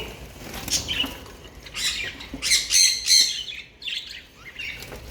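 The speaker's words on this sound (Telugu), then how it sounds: "ఇవి అయితే లవ్ బర్డ్స్." Several lovebirds squawk and chirp in harsh, bright bursts, close by and fairly loud, with short pauses between calls and no talking.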